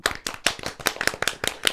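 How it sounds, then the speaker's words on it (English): A small group of people clap fast in a room, producing brisk, uneven bursts of close, sharp claps in quick succession. "If we all clap really fast"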